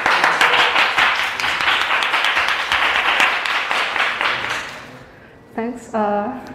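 A meetup audience at a CSS talk applauds warmly, dense steady clapping that gradually fades out, followed by a speaker's voice briefly.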